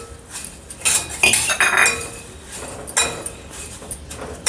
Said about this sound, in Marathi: तर याला भाजूया आपण